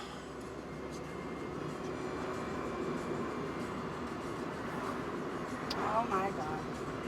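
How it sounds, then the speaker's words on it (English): A train rumbles steadily through a station with a continuous rolling roar, and a brief squeal rises near the end. "Oh my God, we missed the train."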